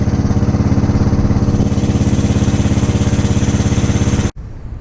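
A Snapper lawn mower engine runs close by in a loud, steady, throbbing drone, then cuts off abruptly near the end, leaving a low background rumble.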